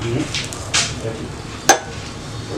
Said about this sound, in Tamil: So you have to fry all this.